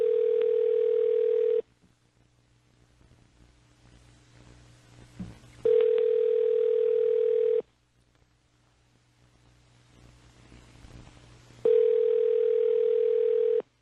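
Outgoing telephone call ringback on a live radio show, with three long steady ring tones at an even interval and quiet gaps between them. Faint low hum and room noise run underneath.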